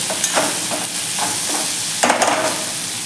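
Chopped capsicum frying with salt in a pan, stirred in a few separate scraping strokes over a close, steady sizzle.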